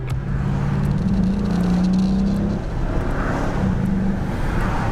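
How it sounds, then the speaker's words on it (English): A Dodge Challenger SRT8 with a HEMI V8 is driven hard at night. Its engine gives a loud, steady low drone and rumble as it holds revs under acceleration. The sound is continuous and recorded from inside or close to the car. "Let's punch it down one good time and see what we got going on with this motor"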